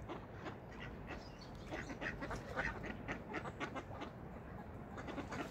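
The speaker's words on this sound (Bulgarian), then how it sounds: "Охо, гледай колко гъски има вътре." A flock of geese on a river calling continuously at a distance, overlapping honks and quacks forming a busy, steady chorus outdoors.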